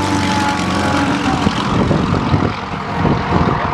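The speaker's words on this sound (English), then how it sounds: "he's flying the tow plane" A tow plane flies overhead at the Wanaka air show, its propeller engine droning steadily and loudly without a break. No one speaks.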